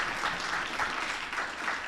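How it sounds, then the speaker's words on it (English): An audience at a school district board meeting gives a round of hand clapping, even and continuous throughout, fairly soft and heard from a distance in the room. "Let me get another hand clap for our communications department."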